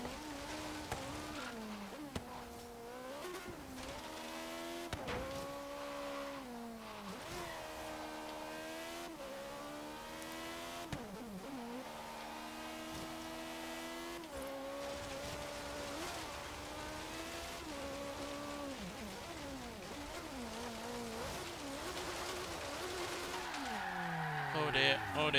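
A Caterham Superlight R500 in the Forza video game drives on dirt, its engine revving and shifting continuously with rising and falling pitch and occasional tire noise, loud and steady throughout.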